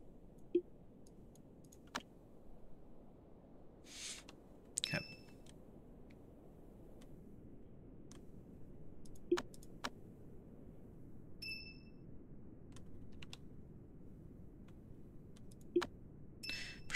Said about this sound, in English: Or until I get tired of clicking.